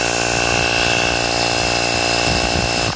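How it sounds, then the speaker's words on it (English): A Ryobi tire air compressor runs loud and close, a steady mechanical drone with a constant pitch that holds unbroken throughout, with no voices. "Just running off of a Ryobi air compressor for your tires."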